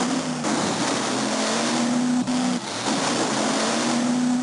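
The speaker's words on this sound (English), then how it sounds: "driving along, crashing cars" Monster trucks racing in a Game Boy Advance video game, a steady loud buzzy engine drone with a constant tone throughout, briefly dipping near the middle.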